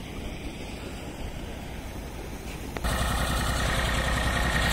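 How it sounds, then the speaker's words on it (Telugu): Several tractors running double-engine motors pump water from a canal near a high court site, a loud steady mechanical drone with rushing water that swells abruptly louder partway through, continuous and close. "ఇది డబుల్ ఇంజిన్ మోటార్స్ అన్నమాట"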